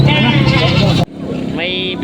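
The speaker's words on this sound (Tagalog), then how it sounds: "Yan yung mga kambing nila na marami dito, mga pambenta pa." Goats for sale at a livestock market in Padre Garcia, Batangas bleat nearby, a couple of loud wavering calls mixed with someone talking, busy crowd noise underneath.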